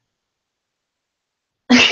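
One sharp sneeze bursts out at the very end after near silence, close and loud.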